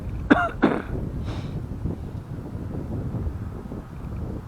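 Steady wind rumbles and buffets the microphone throughout at an RC flying field, preceded by a couple of brief coughs near the start.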